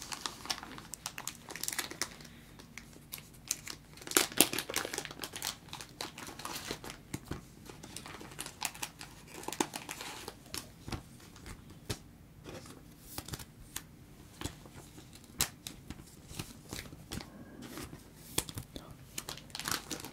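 Pokémon trading cards are handled and slipped into protective plastic sleeves, giving close, soft crinkling and rustling with light sliding and tapping clicks, continuous and detailed throughout.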